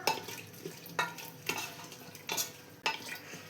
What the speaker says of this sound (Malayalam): എല്ലാം കൂടെ ഒന്ന് മിക്സ് ചെയ്ത് കൊടുക്കാം